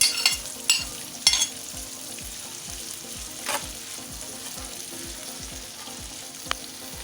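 Tomato cooks in a pan for grilled fish with a constant low sizzle and close, rhythmic bubbling pops, broken by a few sharp clinks near the start.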